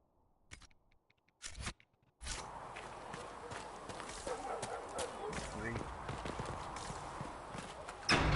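Horse hooves clip-clop in Dragon Age Inquisition, a few isolated hoof strikes first, then a steady walking rhythm under faint background sound, fairly quiet throughout.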